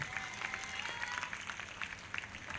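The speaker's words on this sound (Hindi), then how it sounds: "ताली बजाकर महिमा दे परमेश्वर को।" Congregation at a Hindi church service clapping to give glory to God, a steady sustained patter of many hands at moderate distance, continuous throughout with faint crowd murmur.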